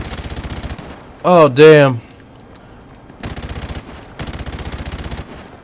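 Automatic gunfire in Call of Duty 4 Remastered: loud rapid bursts of shots, one burst at the start and two more later, separated by a short spoken exclamation and quiet gaps.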